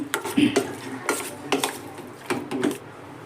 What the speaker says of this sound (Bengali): মাংসটাকে খুব ভালো করে আমি ম্যারিনেট করে নিচ্ছি